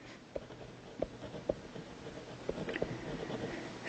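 A hand drawing a precedence diagram with pen on paper, faint close scratching strokes broken by a few light taps, quiet and steady.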